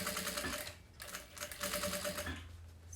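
A sewing machine topstitches a wallet with a continuous fast mechanical whir and chatter, pausing briefly around the one-second mark before running on steadily at a moderate distance.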